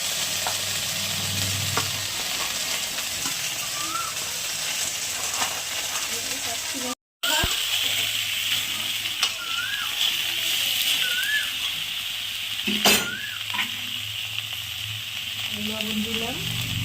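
Drumstick vegetable (sajna stalks) frying in a pan with five-spice tempering, a steady soft sizzle with intermittent scraping stirs and light clatter, and a brief pause partway through.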